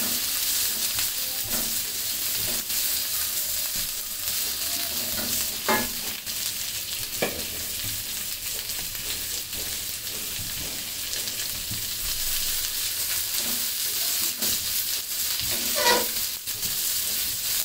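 Capsicum and chicken frying together in a pan over medium heat, a steady close sizzle with occasional stirring scrapes and clicks throughout, no talking.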